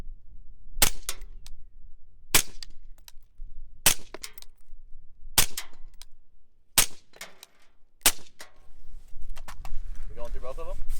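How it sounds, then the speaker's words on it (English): .223 rifle rounds, 55 grain full metal jacket, fire at steel differential covers 100 yards away: six sharp, loud cracks at roughly even intervals of about one and a half seconds, with people talking between the shots. "223, 55 grain, full metal jackets to shoot. So we're gonna shoot both the OEM and the Motobilt diff covers at 100 yards"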